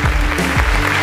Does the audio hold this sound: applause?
yes